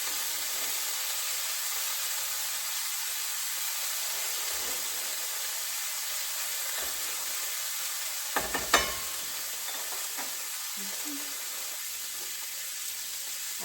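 Corn and black beans warm in a pan with a steady, close sizzle and hiss, broken by a few brief clinks and scrapes of stirring near the middle; no one speaks.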